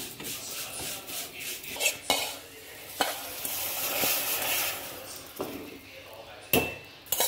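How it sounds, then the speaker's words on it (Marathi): Vermicelli is tipped into half a litre of hot milk in a pan, with scraping and stirring against the metal and a soft sizzle between them. Several sharp clinks of utensil on pan punctuate the stirring. "त्यामध्ये आता ही शेवया टाकणार, ट्रान्सफर करणार."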